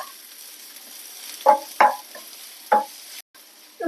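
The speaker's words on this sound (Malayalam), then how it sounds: "മുറിച്ച് വെച്ചിരിക്കുന്ന ഉള്ളി സവാള ചേർത്ത് നല്ലവണ്ണം ഇളക്കി കൊടുക്കാം" Chopped onions stirred in a hot pan along with whole cardamom and cloves, for palak paneer; a few sharp scraping stirs stand out over a faint, steady background sizzle, with no talking.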